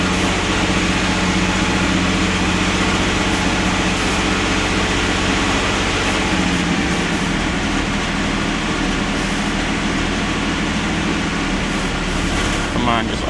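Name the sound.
AMC Eagle 258 engine idling with TFI coil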